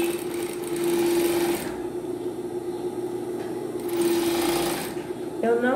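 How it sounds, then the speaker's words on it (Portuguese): A sewing machine stitches through a dish towel folded in half, running in two steady bursts of whirring stitches with a pause between them, close and fairly loud, while someone talks alongside. "Costurar ele dobrado ao meio."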